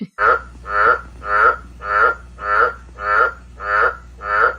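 Toads croak out in hill country, a steady run of eight loud, evenly spaced croaks about half a second apart, close by and alone.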